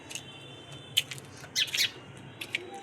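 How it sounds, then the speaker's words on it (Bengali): House sparrows chirp outdoors in the morning, a scatter of short, bright calls with a quick cluster near the middle, fairly close with no talk over them. "চড়ুই পাখি। বেশিরভাগ তো সচরাচর এখন দেখাই যায় না চড়ুই পাখি।"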